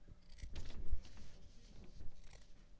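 Scissors snip through material while cutting rainbow shapes for a handmade wall hanging, making a few quiet, close, crunchy cuts in an uneven rhythm with no speech.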